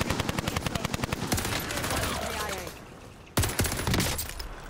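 Rapid, loud automatic gunfire in Call of Duty: Warzone rattles in close, sustained bursts, pauses briefly, then resumes with more shots.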